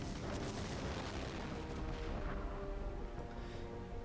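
A massive self-destruct bomb explodes in Rayman 2 with a dense, sustained roar and rumble that fills the whole span and slowly thins toward the end.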